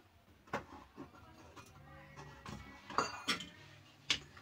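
The lid of a container of chilli pickle is closed, giving a few scattered close clinks and clunks of the jar and cap, with quiet gaps between them.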